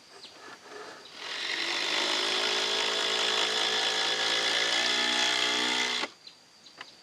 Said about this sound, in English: driving in the screws